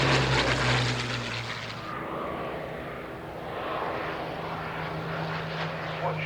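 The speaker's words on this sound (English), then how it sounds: "watch how quickly this airplane gets off the ground" A propeller airplane's engine drones loudly at an evening air display, its pitch shifting as the aircraft accelerates and takes off, a steady mechanical roar throughout.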